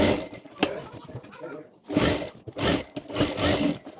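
A sewing machine stitches a pocket onto a men's kurta in short whirring bursts with brief pauses between runs. It is fairly close and moderately loud.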